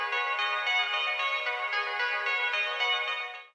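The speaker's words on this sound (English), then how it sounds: "I found this Dream Pop sample pack here, and I really like this Georgia guitar lead one" A dreamy guitar lead sample from a BandLab Dream Pop pack rings out in a steady, bright, sustained melodic line for a few seconds, close and alone, then fades at the end.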